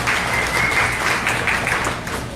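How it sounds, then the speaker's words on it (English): Audience at a real estate panel event applauding, a dense, loud, steady wash of clapping from many hands that continues throughout without a break. "Give these guys a round of applause for showing up."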